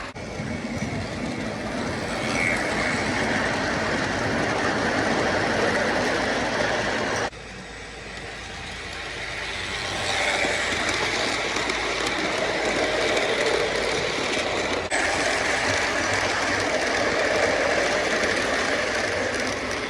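A small O-gauge MTH Dash 8 toy train locomotive, converted to battery power, runs continuously with a steady mechanical whir and rattling, close by, with a brief dip partway through.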